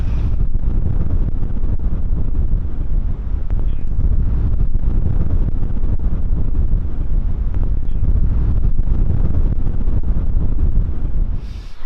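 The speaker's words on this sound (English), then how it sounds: "the wind just goes straight through you" Strong wind buffets the microphone at the top of Beeston Castle, a hilltop ruin, roaring loud and unbroken throughout with deep low rumble and gusty swells.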